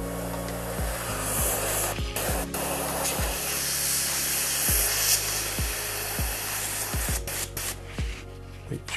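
Airbrush spraying Badger Spray Thru cleaner, a loud continuous hiss of air and fluid broken by several short pulses as the trigger is worked, close to the ear.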